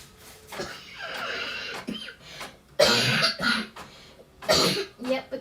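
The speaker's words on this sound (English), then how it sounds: "Yep, the cough's still there." A person coughs in several rough, hoarse bursts separated by short pauses, the later fits louder and harsher, close to the listener.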